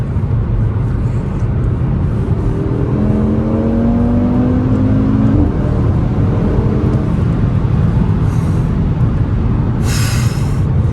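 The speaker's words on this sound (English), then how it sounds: "I think I'll let the car shift for me when we do launch control the first time to see what it does." An Audi RS3 accelerates hard off the line under launch control, heard from inside as a loud, rising engine drone with gear changes and heavy road and wind roar throughout.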